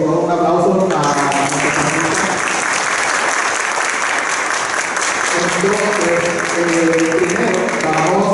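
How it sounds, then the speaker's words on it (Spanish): Loud, sustained applause from a crowd fills the whole stretch, steady clapping with a brief swell near the start and a voice faintly heard beneath. "Así que por favor un aplauso a nuestros"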